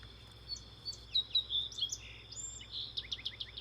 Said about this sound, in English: and another song sparrow from Washington State.